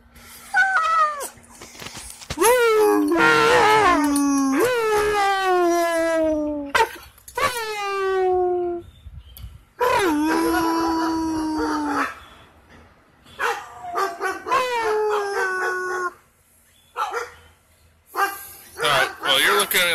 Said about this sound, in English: You want to bark with them?